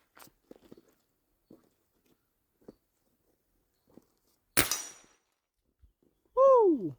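A single sharp air rifle shot firing an NSA 55.5 grain slug at a 20-yard target, loud and abrupt with a short decaying tail, set among faint scattered clicks and handling noises and ending in a brief whistle-like tone.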